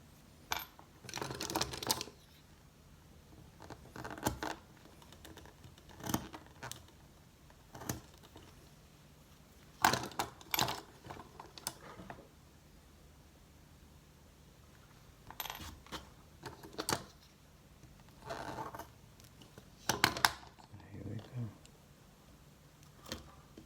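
Scattered sharp taps and clicks from sharp blades trimming a leather strap for a handmade sterling silver bracelet, quiet and intermittent, with someone talking over parts of it.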